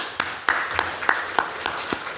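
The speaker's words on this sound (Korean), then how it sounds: "박수로 하나님 영광 돌립시다" A church congregation applauding: a short run of distinct hand claps at a fairly even pace, moderately loud and close, with no talking over it.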